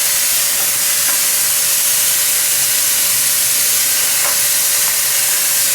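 A paint spray gun hooked up for troubleshooting sprays poorly, giving a steady, loud broadband hiss of air and atomised paint that runs unbroken and close-up with no voices.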